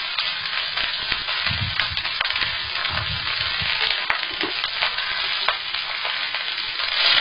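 Bengali fried rice being stirred in a frying pan, with steady sizzling and frying hiss plus intermittent scraping and stirring clatter, close and continuous with no voices.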